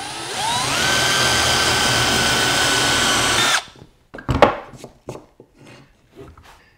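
A power drill bores a hole in wood during a woodworking job: a loud, steady whir for about three and a half seconds, then it cuts off and leaves a few scattered knocks and taps.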